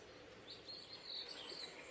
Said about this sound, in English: Be quiet and listen to all the birds' song.